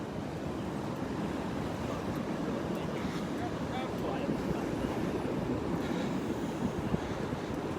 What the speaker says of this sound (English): these are pretty good waves.